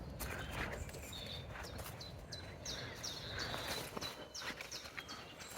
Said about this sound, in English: see whether you can pick up on all of this birdsong